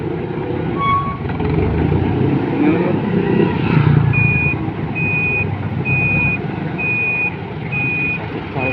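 Steady road traffic rumble with a truck's reversing alarm beeping in a regular repeating pattern during the second half, fairly close and loud over the vehicle noise.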